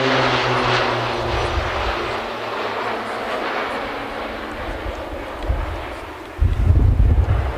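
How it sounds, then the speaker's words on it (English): A propeller-driven Roulettes aerobatic aircraft flying a barrel roll around a formation at an air display, its engine a steady distant drone with wind rumble that swells into a louder, closer roar near the end. "Roulette 4 is flying a barrel roll around the complete formation."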